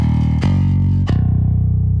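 A modern metal or djent bass tone without the Darkglass Ultra plugin: low, sustained picked notes with a couple of sharp attacks, a thick, steady and fairly dry sound, with no talking.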